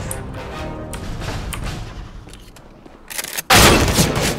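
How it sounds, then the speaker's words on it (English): Desert Eagle pistol fire in a CS:GO deathmatch on Dust II: loud, sharp gunshots and surrounding game gunfire close to the listener, ending in a sudden burst of very loud, dense shooting in the last second. "go back to this awesome gun"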